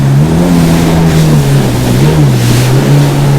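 A Yamaha WaveRunner cruising over waves, its engine a loud, steady drone that rises and dips slightly in pitch, with water rushing and splashing around it throughout.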